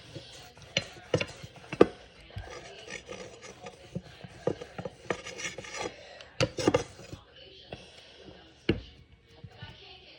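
Cookie dough for no-cook cookies gets rolled out on a plate greased with vegetable oil, giving soft irregular rubbing and rasping strokes with scattered sharper knocks, fairly quiet and close.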